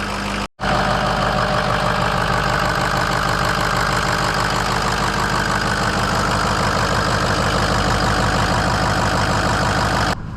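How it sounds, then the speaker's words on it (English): Ford 6.0 Power Stroke diesel truck engine idling smoothly after a fresh start with new batteries, a close, steady rattling clatter with even rhythm, briefly cut near the start, then constant and loud with no voices. "the truck sounds absolutely excellent. It's running nice and smooth."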